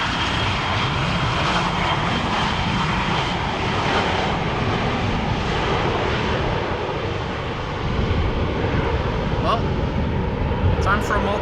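An Air Malta airliner rumbles past at Schiphol Airport, a loud, continuous engine roar close by that stays steady, with people talking over it.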